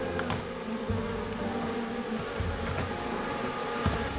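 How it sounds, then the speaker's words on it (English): Angry bees swarming to defend their nest, a dense continuous buzzing drone with several brief louder passes close by, steady throughout with no voices. "the bees are mad and swarm to protect their treasure."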